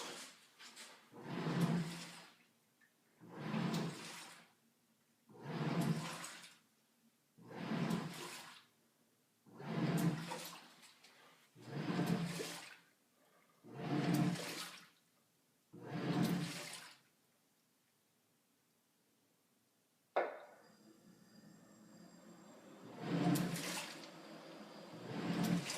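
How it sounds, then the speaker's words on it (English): A Magic Chef 1.6 cu ft portable washer running its wash cycle, with about nine regular, evenly spaced bursts of swishing agitation, then a steadier watery churn with a sharp start near the end; moderately quiet and close. "Now it's starting to wash."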